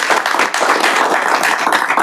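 A short round of applause breaks out at a committee meeting, a brisk patter of many hands clapping that stays fairly loud for about two seconds.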